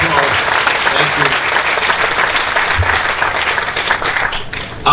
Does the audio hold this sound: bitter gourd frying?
no